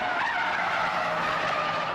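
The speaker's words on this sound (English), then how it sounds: "Stig's kicked the tail out. Look at the inside tyre smoking." A BMW 535d's tyres squeal loudly as the tail slides out, a continuous rasping screech with engine noise underneath, with no talking.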